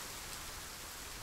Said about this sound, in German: Irgendwie regnet es hier richtig oft.